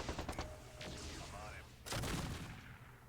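Autocannon fire in the MechCommander 2 video game: dense, rapid bursts of gunfire with booms and overlapping shots, rising to a louder stretch midway, with a voice faintly mixed under the battle.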